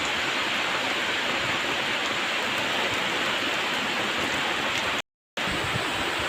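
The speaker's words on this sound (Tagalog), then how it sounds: "Kaya, nako, ulan siya. Grabe na ulan to." Heavy rain pours in a dense, unbroken roar, loud and close, with a brief cut of silence near the end before the downpour resumes.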